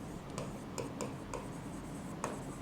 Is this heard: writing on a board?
yes